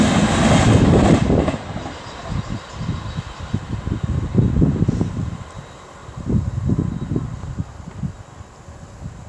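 An Avanti West Coast passenger train, unit 39126, approaches Liverpool South Parkway station on the West Coast Main Line, its broad rumble and wheel noise rising and falling in pulses, loud and close, with wind buffeting the microphone.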